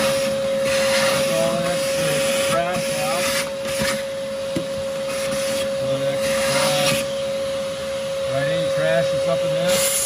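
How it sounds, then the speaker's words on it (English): Shop vac running steadily while vacuuming scale and dirt out of a toilet tank, a loud continuous whine with scraping and rattling as debris is sucked up, close and sustained throughout. "So first thing you want to do is turn on your shop vac."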